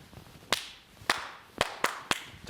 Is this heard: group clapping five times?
yes